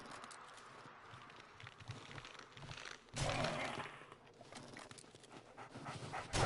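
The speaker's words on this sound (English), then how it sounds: "And that's a dog." A dog pants in the 7 Days to Die video game, a steady run of breathy huffs heard at a moderate distance alongside game noise, swelling louder partway through with a few thumping footfalls.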